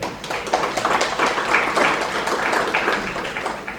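Audience applause welcoming a guest at a university celebration in Hyderabad: a dense, steady wash of many hands clapping, fairly close and sustained for the whole stretch with no break.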